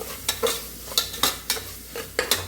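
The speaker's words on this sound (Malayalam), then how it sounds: "അപ്പം അതൊക്കെ കൂടിയിട്ട് ഒന്ന് ഇളക്കിയിട്ട് അതിൻ്റെ പച്ചമണം മാറുന്ന വരെ ഒന്ന് വഴറ്റിയെടുക്കാം" A spoon stirs green chillies, coriander and pepper powder as they sauté in a pan, with several regular scraping strokes over a soft sizzle, close and fairly loud, no voices.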